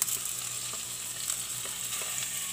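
Onion frying in a pan for a seafood and tofu dish: a steady, bright hiss of sizzling oil with faint, occasional stirring taps, fairly quiet and without talk.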